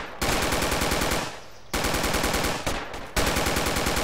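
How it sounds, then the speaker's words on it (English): Gunfire in the video game Project Reality during a jungle co-op match: loud, rapid automatic bursts in several strings with short gaps between them, close and with no talking. "Open fire on him."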